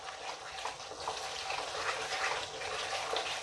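Spice paste (masala) for Punjabi-style paneer pasanda frying in a pan over a medium gas flame, giving a steady, close, unbroken sizzling hiss with no voices.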